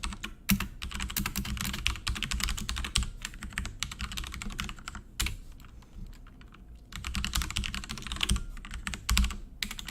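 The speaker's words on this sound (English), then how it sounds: "Sorry for the loud keyboard." Rapid clattering keystrokes on a noisy keyboard, near and loud, in dense bursts with a couple of brief pauses.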